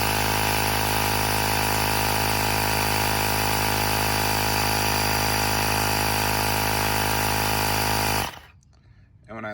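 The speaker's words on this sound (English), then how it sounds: "I love my Ryobi portable little mini air compressor power inflator" A Ryobi portable mini air compressor power inflator runs steadily on a Mazda CX-5 tire, a loud continuous buzzing motor drone that stops abruptly near the end, leaving quiet background.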